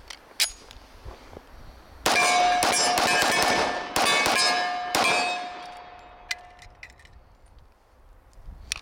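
Metal clanks and rings as a Wilson Combat 47D 1911 pistol magazine is handled beside a Springfield Armory Mil-Spec Stainless 1911, a few sharp close strikes followed by a lingering metallic ring that slowly fades.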